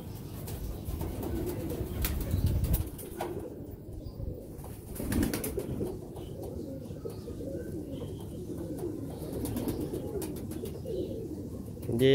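Doome kabutar pigeons, a fancy breed in Pakistan, coo steadily and low throughout, with a brief burst of wing flapping near the start and faint chirps over a constant murmur.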